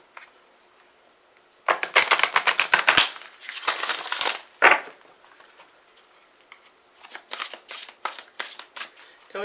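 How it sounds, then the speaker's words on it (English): Crisp rapid riffling of a tarot deck, several bursts of shuffling with short pauses between them, close and clear. "I be struggling sometimes with shuffling this deck."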